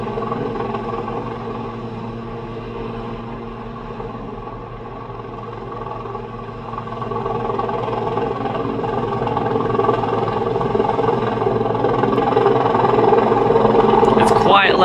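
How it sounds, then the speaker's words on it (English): Helicopter whirring right outside an apartment, a loud steady droning rumble that builds gradually and dominates throughout, with no one talking over it. "And there is said helicopter,"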